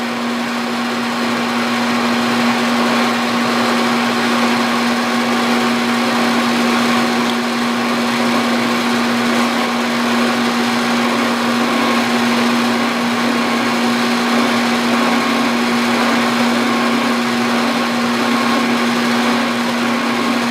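A lathe cuts a stroked spline under cross feed, giving a loud continuous motor whine with a steady pitched hum and no pauses across the whole stretch, with nobody talking.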